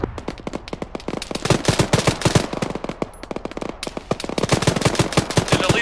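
Rapid bursts of incoming gunfire in a military video game, dense machine-gun fire cracking continuously from the north down a road, loud and sustained with brief pauses.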